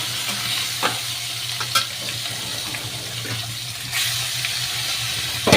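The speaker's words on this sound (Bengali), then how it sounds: "মাছগুলো ভাজা করতে না খুব ভয় করে।" Pangas fish pieces frying in hot oil in a pan, a continuous hiss and sizzle with occasional sharper spits and pops, close and steady throughout.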